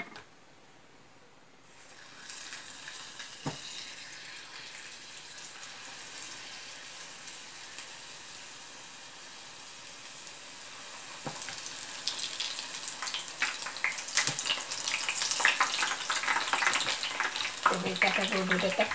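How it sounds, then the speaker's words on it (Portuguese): Battered peixinho-da-horta leaves dropped into hot fat, a faint steady hiss that rises into louder crackling sizzle toward the end, with a few soft knocks along the way. "Aproveitar que a gordura tá quente e vamos fritar logo aqui esses peixinhos"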